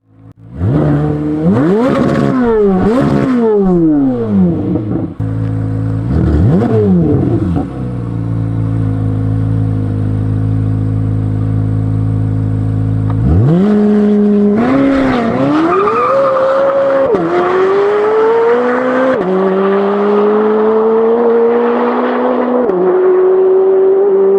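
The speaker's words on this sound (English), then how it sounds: "Chevrolet Corvette Z06 670 horsepower." A 670-horsepower Chevrolet Corvette Z06 engine revs hard and loud through repeated rising and falling sweeps, then settles into a steady high drone with more climbing revs.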